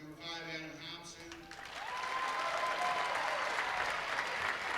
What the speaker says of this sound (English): give them a round of applause as we go